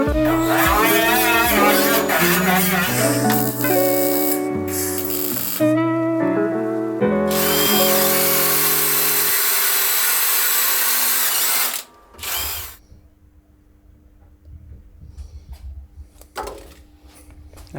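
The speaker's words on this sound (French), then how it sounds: "je vais aller faire des trous dans le capot, donc 4 trous pour ces petits trucs là" A power drill bores holes through the hood of a Mini car in a workshop, close and loud, its motor whining up and down in several rising and falling bursts before settling into quieter, intermittent rattles.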